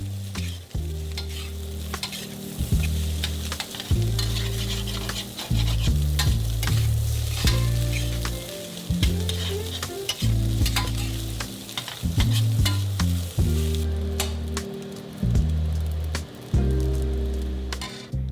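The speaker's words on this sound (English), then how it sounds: "add in the baked unagi pieces. Give it a final toss to combine." Fried rice with baked unagi pieces is tossed in a wok over high heat, a continuous loud sizzle broken by repeated scraping and clanking strokes of the spatula in a steady rhythm.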